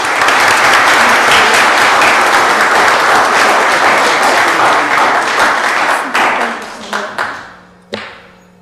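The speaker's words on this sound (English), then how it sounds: "If you join me in a round of applause." Loud, sustained applause rises at a city council meeting, steady for several seconds before thinning into a few scattered final claps that trail off.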